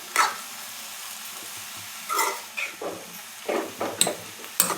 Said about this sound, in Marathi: भाजी छान तेलात परतून घ्यायची आपल्याला.